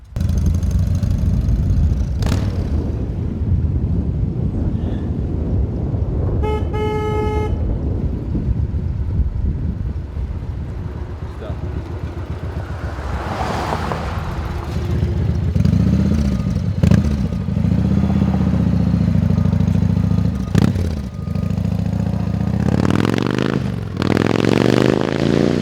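A 1993 Harley Davidson FXR rides off and returns for a pass down the road, its engine rumbling at a distance amid wind buffeting and scraping handling noises, then swelling louder as it draws near.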